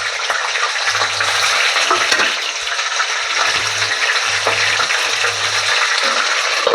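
Fish head frying in hot oil under a lid, a steady loud crackling sizzle throughout with a low intermittent hum underneath, no talking.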